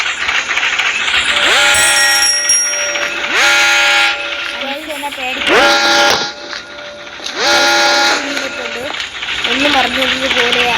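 In the horror video game Granny, a bell rings several times amid clanking mechanical game sounds, with tonal chimes rising and sustaining in repeated loud bursts over a busy, noisy background.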